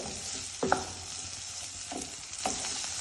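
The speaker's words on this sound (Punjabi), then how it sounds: "ਇਹਦੇ ਵਿੱਚ ਆਪਾਂ ਹੁਣ ਕੱਟੀ ਹੋਈ ਗਾਜਰ ਪਾ ਦਿੰਨੇ ਆ ਤੇ ਨਾਲ ਹੀ ਆਪਾਂ ਸ਼ਿਮਲਾ ਮਿਰਚ ਕੱਟੀ ਹੋਈ ਪਾ ਦਿੰਨੇ ਆ ਇਹਨਾਂ ਨੂੰ ਆਪਾਂ ਹਲਕਾ ਜਿਹਾ ਭੁੰਨਿਆ" Chopped carrot and capsicum sizzle steadily in a hot pan, with a few soft stirring scrapes rising over the constant frying hiss.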